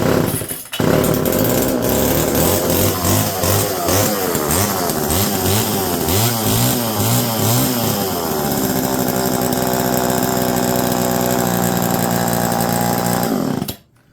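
A vintage blue Homelite EZ chainsaw runs loud and close, its two-stroke engine revving up and down in repeated pulls before holding a steady buzz and cutting off abruptly.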